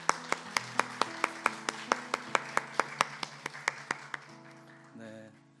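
Church congregation at a Korean Sunday worship service clapping in blessing: a steady, evenly spaced run of about twenty sharp claps over a soft tone, then a quieter tail with a brief voice.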